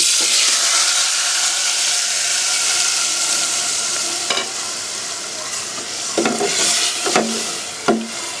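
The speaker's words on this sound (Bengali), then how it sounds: "এখন আমরা মাংসগুলো পাতিলে ঢেলে দিব।" Beef pieces tipped into a pot of onions hit hot oil with a loud, steady sizzle, while a spoon scrapes and stirs now and then near the end.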